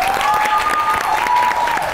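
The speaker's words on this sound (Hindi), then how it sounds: "ताली बजाइए" Studio audience applauding on a comedy talk show, loud sustained clapping from many hands close by, with a faint tonal whistle or voice trace underneath.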